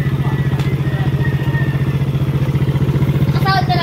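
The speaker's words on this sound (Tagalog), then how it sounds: "Paano kasi pinapasok pa kasi yung motor?" Motorcycle engine running close by with a steady, rapid pulsing throb that holds evenly throughout, loud and alone.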